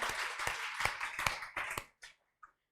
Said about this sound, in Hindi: पर जोरदार तालियां बजाओ यार भाई के लिए